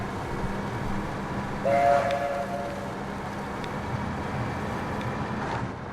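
A steam-style train whistle sounds in a snowy railway driving game, one short tonal blast near the start over a steady rumbling engine and track noise.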